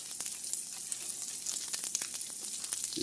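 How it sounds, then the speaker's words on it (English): Onions fry in a hot pan, giving a constant bright crackling sizzle with dense irregular pops, close and moderately loud, with no voices. "You can hear the sizzle"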